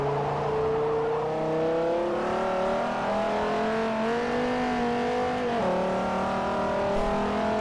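A Hennessy Exorcism Camaro engine in the Forza Motorsport 4 racing game: a loud, steady drone with strong harmonics that rises and dips slightly as the revs shift, running unbroken with no talk over it.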